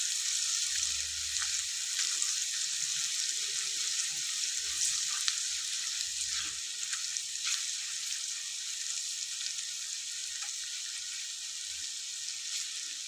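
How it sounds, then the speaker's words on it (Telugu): Ginger paste and turmeric fry in oil with a steady, close, bright sizzle, joined by a few soft low stirring bumps. "కొంచెం ఆయిల్లో ఫ్రై అయితే చాలు."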